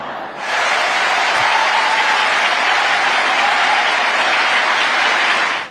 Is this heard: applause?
yes